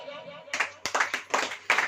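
Church congregation clapping hands during a sermon: a handful of sharp, rhythmic group claps in quick succession following a short stretch of quiet room sound.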